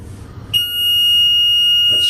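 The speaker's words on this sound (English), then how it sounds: "That's just the lift because I've got the door holding it open." Lift alarm buzzer sounding as a steady, piercing high electronic tone while the lift door is held open, starting suddenly after a low background hum and continuing loud and unbroken.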